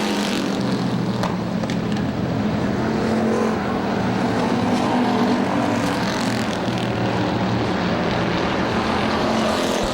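Race cars roar continuously around Motordrome Speedway, a loud, steady wall of engine noise from a pack of machines on the back straight during an early lap.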